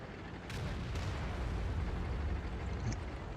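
A tank cannon fires in World of Tanks during a battle with a KV-1 heavy tank nearby. A sharp crack opens a deep, rumbling boom that rolls on for a few seconds, with another faint distant shot near the end.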